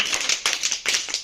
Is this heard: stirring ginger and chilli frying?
no